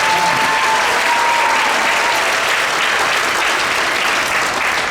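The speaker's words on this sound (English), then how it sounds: "Let's give a big round of applause for Mr. Raymer" A middle school sixth grade band concert audience gives band director Mr. Raymer a loud, dense, sustained round of applause that holds steady from start to finish.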